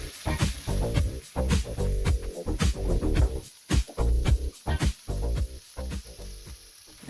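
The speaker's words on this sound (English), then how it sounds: "just keep turning them around, sizzling them down" Curried sausages frying in a pan, a loud close sizzle with bursts of spitting and crackling that surge and drop in irregular pulses, plus occasional knocks as the sausages are turned.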